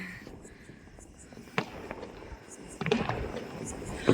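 Colourful Diwali fireworks burst outdoors in scattered sharp cracks and pops, some near and some farther off, while people talk throughout.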